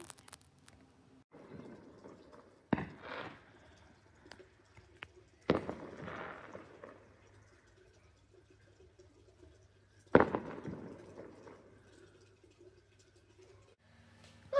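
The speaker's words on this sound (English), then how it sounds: "Lots of fireworks going off." Distant fireworks pop and crackle outside, a few sharp bangs spaced seconds apart over a quiet, faintly noisy background.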